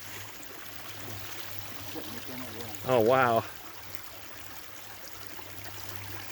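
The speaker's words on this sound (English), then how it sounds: "I love the sound, the bubbling brook, and the water's just crystal clear coming out of the mountains." A small creek flowing from St. Mary's Falls along a mountain trail off Gold Camp Road trickles and bubbles steadily throughout, with a brief exclaiming voice in the middle.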